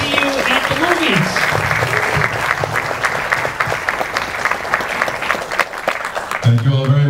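Audience applause for the cast of a horror film at a screening event, steady crowd clapping mixed with voices and cheering throughout, a brief low voice near the end.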